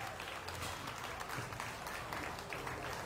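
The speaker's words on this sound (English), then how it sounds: "Let's give her a big round of applause." Crowd applause at a 2024 county fair swine show, a steady dense wash of clapping in a large arena that holds evenly for about three seconds, with faint voices mixed into the background.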